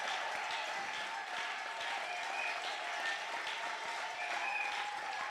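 A church congregation claps in sustained applause for God at a French-English sermon, an even, steady wash of many hands heard from some distance, with no speech over it.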